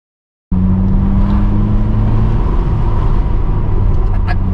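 A Vauxhall Corsa fitted with a straight pipe exhaust drives with a loud, steady, droning engine note that starts abruptly after a brief silence, close and continuous throughout.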